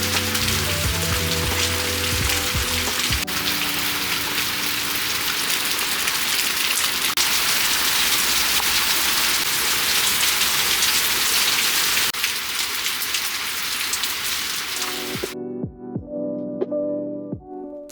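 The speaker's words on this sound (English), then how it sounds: "I'm going to take you outside and show you the beautiful rain" Heavy summer-storm rain falling outside, a dense, even hiss with steady patter on surfaces, loud and continuous before cutting off abruptly near the end to scattered drips and knocks.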